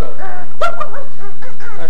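A dog gives a couple of short, sharp barks and yips, close by, with some faint background noise.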